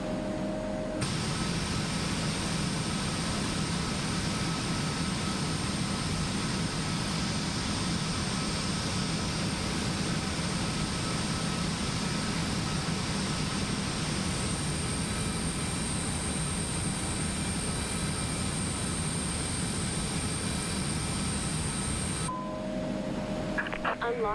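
Jet engine of an Embraer E-Jet spooling up on start in a flight simulator, a steady loud roar and whine holding evenly throughout with a voice speaking over it.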